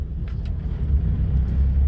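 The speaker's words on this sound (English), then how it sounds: "This little car is coming back to life." A Renault Dauphine converted to electric power runs with a low, steady rumble and faint hum, close by and fairly quiet, with no voices.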